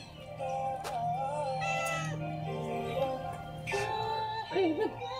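A cat meows several times in varied, rising and falling calls, close by, with some background noise between the cries.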